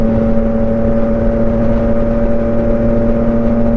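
A motorbike engine runs at a steady idle close by, with a constant droning hum and strong even tones and no change in pitch throughout.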